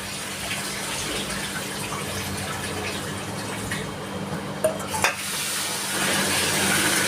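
Ground cumin paste goes into a pan of frying hilsa fish, bringing a steady close sizzle and hiss of hot oil with a few soft stirring scrapes and brief knocks near the end.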